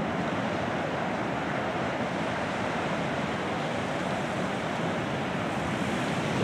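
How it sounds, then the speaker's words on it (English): Ocean surf rolls onto the beach at Haven Beach under light west winds, a steady, full wash of breaking waves that fills the whole stretch without pause and with no voices. "Real nice surf today."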